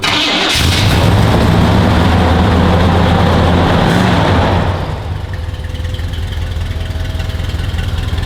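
A big classic car V8 engine cranks and roars to life loudly, then settles into a steady, rumbling idle after a few seconds.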